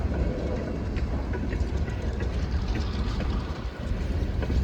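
A nine-car freight train of the Hamilton Northwestern Railroad rolls past close by, with a steady, loud rumble and rattling wheel clatter running the whole time.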